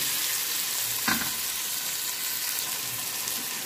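Chicken biryani mixture with salt hisses steadily as it fries and gets stirred in the pan, a constant close sizzle broken by one quick scrape of the spoon.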